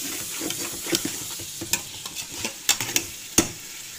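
Chicken pulao frying in a pot while being stirred, a quiet sizzle broken by scraping spoon strokes and a few sharp clinks against the metal.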